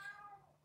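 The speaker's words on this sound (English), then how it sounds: "That's the cat." A cat meows once indoors during a casual get-together, a short, faint, falling cry on its own with no talk over it.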